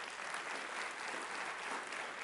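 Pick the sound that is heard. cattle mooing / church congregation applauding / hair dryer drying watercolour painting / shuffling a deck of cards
church congregation applauding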